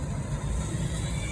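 Drivetrain of a Team Associated Rival MT10 RC monster truck running on 3S produces a steady, close, gritty mechanical whine with a low rumbling growl.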